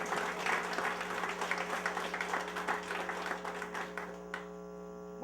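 Audience applause for Dr. Hernán Padilla at a public equality forum in Ponce, 2012: dense, steady clapping from a crowd over a low mains hum, running several seconds before cutting off sharply near the end.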